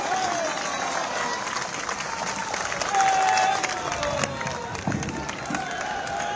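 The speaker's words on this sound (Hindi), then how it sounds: "हम सभी खड़े होकर जोरदार तालियों के साथ धन्यवाद ज्ञापित करें" An audience at a Lucknow skill festival closing session stands and applauds Chief Minister Yogi Adityanath, producing steady, dense clapping throughout with a faint murmur of voices.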